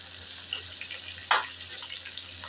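Chopped onion dropped into hot oil for a white chicken handi, giving a sudden splashing sizzle that flares up and then settles into a soft, steady frying hiss.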